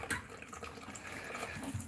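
Water gushing from a leaking toilet supply valve that will not fully shut off, a steady broadband spray and hiss close by with no talk over it.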